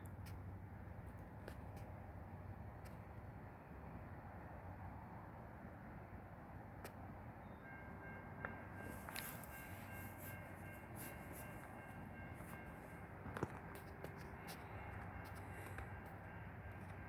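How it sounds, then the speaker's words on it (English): An empty crude oil freight train with CN locomotives, including an AC44C6M and a C44-9W, rolls past in a steady rumble with rail clatter and squeal, moderately distant, with no voices. "Comes train number 4."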